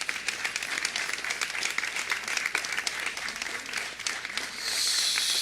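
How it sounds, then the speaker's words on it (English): Crowd applause at the Illinois State Fair opening ceremony, a dense, steady wash of clapping from many hands that carries on throughout and swells slightly louder near the end. "So let's give them all a big round of applause."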